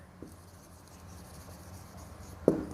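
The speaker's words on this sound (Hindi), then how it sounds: "लिखते हैं हम यहाँ पर" Pen writing by hand on paper during a maths lesson, a faint soft scratching that ends in a sharper tap.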